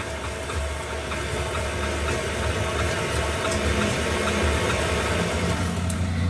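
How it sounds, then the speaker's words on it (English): A stand mixer stirs dry ingredients for gluten-free oat and hemp heart bread, giving a steady, continuous motor hum and whir at an even level throughout, close and unbroken, with no talking. "we're going to take this to the mixer and combine these before we add our liquid ingredients"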